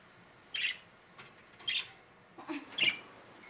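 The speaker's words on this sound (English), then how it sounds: "I hate this bird. No, I love this bird." A pet bird chirps indoors in short, bright bursts, four separate calls spaced about a second apart, moderately close against a quiet household background.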